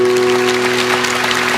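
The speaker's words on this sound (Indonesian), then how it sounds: "Kasih tepuk tangan untuk Tuhan" Church congregation clapping during a sermon, a brief, loud burst of applause over a steady sustained tone.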